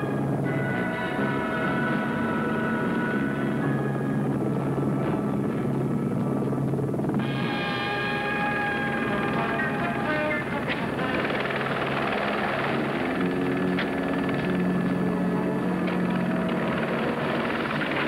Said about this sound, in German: Archie, ich bin frei und im Hubschrauber.